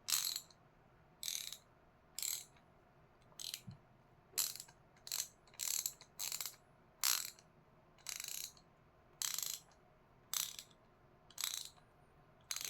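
A ratchet wrench clicks in short regular bursts of ratcheting, about a dozen strokes, each close and crisp against a quiet background with no voices.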